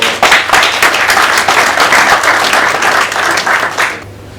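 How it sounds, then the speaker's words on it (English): A conference crowd at a distributors' event bursts into loud, dense applause, many hands clapping steadily and close before the sound fades at the end. "Please, a round of applause for"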